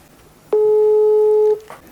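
A single ringback tone sounds on an outgoing telephone call, one steady electronic beep lasting about a second, clear and close against a quiet background, with no talk over it.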